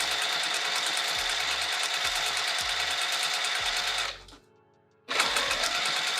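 A sewing machine stitches steadily at a short 1.5 stitch length around a pouch corner, loud and close, with a few faint low thumps and a short pause before the motor starts running again.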